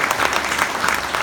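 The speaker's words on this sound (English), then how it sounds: "why not give him a round of applause?" An audience applauds at a sci-fi convention in Gothenburg, thick and steady clapping from a crowd that is loud and continuous through the short stretch.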